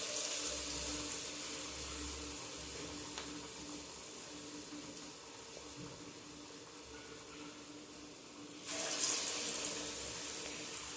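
Vada batter frying in hot oil for a vada kuzhambu, a steady broad sizzling hiss that runs throughout and swells louder near the end, with no voices.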